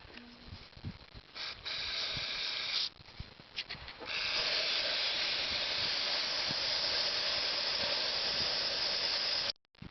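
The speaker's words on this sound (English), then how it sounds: "take the mass airflow sensor cleaner and we'll spray it all on the inside of this" A can of mass airflow sensor cleaner sprays in short bursts inside a GM 3800 V6 air intake part, then one long continuous hiss for several seconds, close and steady, ending abruptly.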